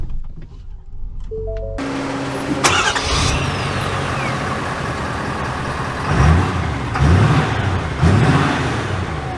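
A 2023 Ford Super Duty Tremor pickup cranks and fires after a quiet start, then settles into a loud, steady engine drone heard from inside the cab, with a few rising revs as it pulls away.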